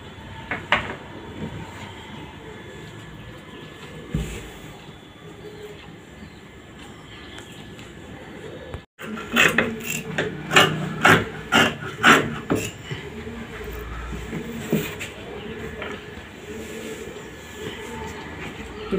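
Scissors cutting through chudidar top fabric, a run of crisp, evenly spaced snips close by after a quieter stretch of faint handling.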